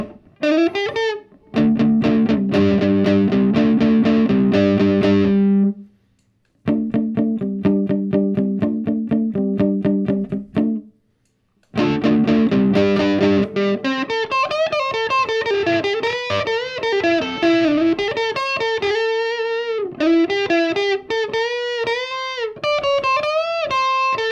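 Solid-body electric ukulele strummed through a heavy effects pedal, distorted chords ringing loud, then brief pauses and a run of wavering, effected single notes.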